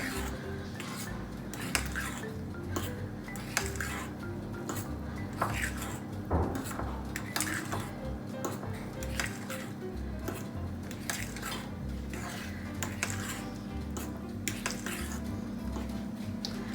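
A spoon stirs eggless banana honey muffin batter with chocolate chips in a bowl, giving repeated close scraping clinks against the bowl in a steady rhythm over a low background hum.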